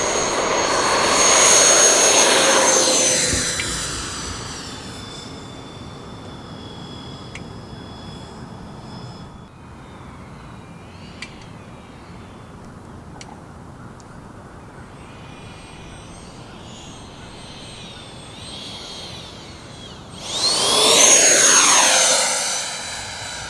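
A Freewing F-14 Tomcat twin 80mm EDF RC jet whooshes past close and loud at the start, its engine roar fading into a windy background before swelling again as it passes near at the end.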